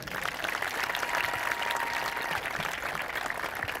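A crowd at a high school girls' soccer senior night applauds, the dense clapping and faint cheers staying steady and fairly distant for several seconds with no clear speech.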